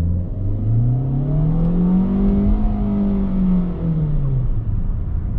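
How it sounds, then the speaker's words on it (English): A 2020 Kia Soul engine revs up hard from a stop, its low growl rising steadily in pitch and then easing back, loud and continuous with no talking. "I'll floor it and we'll see how the engine sounds"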